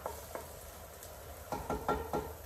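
Food for a red lentil and vegetable soup sizzles in a pan with a faint steady crackle, while a few soft clinks and scrapes of stirring come through near the end.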